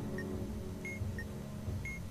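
A video game alarm clock in Keep Talking and Nobody Explodes gives four short, high electronic beeps at uneven intervals, thin and faint above a low background rumble.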